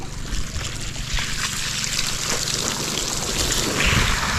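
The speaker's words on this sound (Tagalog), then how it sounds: "Maraming tulo." Steady water dripping and trickling, many drops pattering onto a surface in a continuous wet hiss, fairly loud and close.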